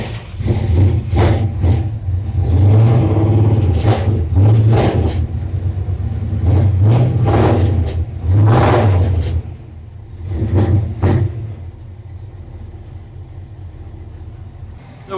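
A 1972 Chevrolet Suburban V8 with a newly fixed carburetor starts and revs several times, loud, close rumbling surges rising and falling, then settles into a steadier idle near the end.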